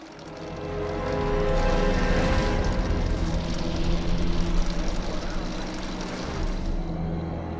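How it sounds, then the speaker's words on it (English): Large metal gears turn inside a human-sized meat-grinding machine in a horror film, giving a loud, steady mechanical roar that builds quickly and holds for several seconds with no voices. "Let's start the gears."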